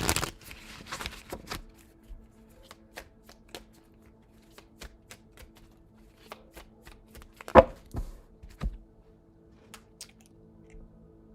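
Tarot cards being shuffled by hand, a dense riffling burst at the start followed by scattered soft card taps and flicks, with one sharper slap midway, all fairly quiet with no talking.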